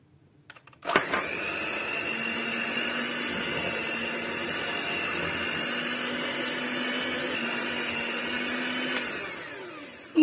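Electric mixer whirring steadily as it beats almond cream batter while ground almonds are added, a loud continuous drone starting abruptly and running several seconds before cutting off.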